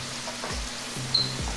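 Asparagus spears sizzle steadily in hot frying grease, a constant close crackle with a few soft stirring knocks, no voices.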